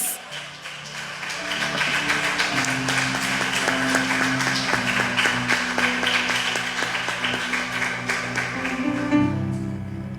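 A church congregation claps its hands in a steady, even rhythm alongside sustained musical tones, the beat held for several seconds before easing off.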